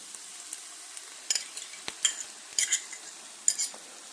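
Four scrambled eggs cook in a pan with a faint, steady sizzle, broken by scattered light clinks and scrapes of a utensil against the pan.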